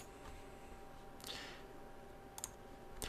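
Soft computer mouse clicks on a create account button in a quiet room, with a few faint, isolated clicks spread across a low background hum.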